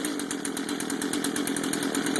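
A chainsaw being started for the first time runs at a steady buzzing idle, its engine close and loud with a fast regular rasp and no talk.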